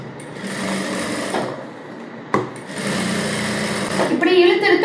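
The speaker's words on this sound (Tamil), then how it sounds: "எட்ஜில் இப்போ இப்படி திருப்பி உள்ள சுத்தி ஒரு தையல் போட போறோம்." A sewing machine stitches the lining edge of a princess-cut blouse in two close, buzzing runs separated by a short pause, and a voice speaks near the end.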